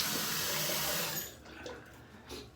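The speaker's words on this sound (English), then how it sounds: "I'm gonna rinse off the razor." Tap water splashes loudly as a razor is rinsed under a bathroom faucet during a shave, then the flow cuts off after about a second, leaving soft drips and faint handling sounds.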